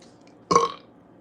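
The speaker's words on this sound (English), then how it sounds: "Can you burp?" A single short, loud burp bursting out of near silence and fading quickly, close to the microphone.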